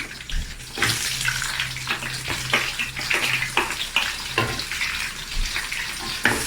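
Chopped onions for tomato rice sizzle in hot cooking oil, a loud hissing crackle that keeps going with bursts and fluctuations as they fry, no voices over it.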